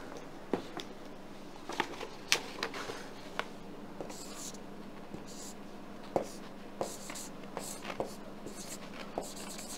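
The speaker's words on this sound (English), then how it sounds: "So I'll write it down." A pen scratches across paper in close, quiet strokes with small taps and pauses between words, steady over several seconds with no talk.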